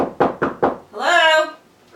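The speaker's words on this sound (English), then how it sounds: "I'm going to knock again." Three sharp knocks on a door in quick, even succession, close and loud, followed by a brief voice or dog-like vocal sound.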